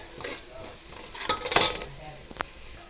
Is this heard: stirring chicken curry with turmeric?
yes